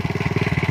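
An old Honda C70 motorcycle engine runs with a steady, fast low thumping pulse, loud and close, with no talk over it.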